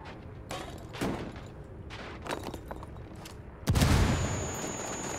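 Ghost Recon Wildlands gameplay with scattered gunshot cracks and sharp impacts, then a loud explosion bursts in near the end and leaves a sustained roaring rumble.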